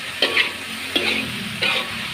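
Three short scraping stirs of tempeh and tofu in a frying pan over a steady, soft sizzle, close by and with no voices.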